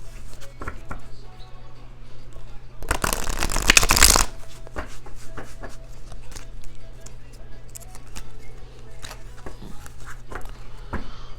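Cards are riffle-shuffled in one quick, loud burst, surrounded by soft taps and clicks of cards being handled.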